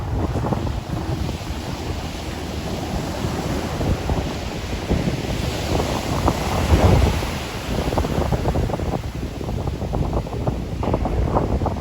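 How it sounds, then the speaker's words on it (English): Ocean waves break and wash onto a Florida beach as a surf spot gets going. The rumbling surf is continuous and fairly loud, swelling and easing with wind buffeting the microphone, and nobody speaks. "stick around for a few waves that we did get on camera"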